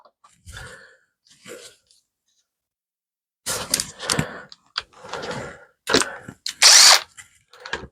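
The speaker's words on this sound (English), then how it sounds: "my drill's giving me fits today." A power drill driving 2-inch screws in several short bursts, loud and close, separated by brief pauses, with a few faint clicks in the quieter first half.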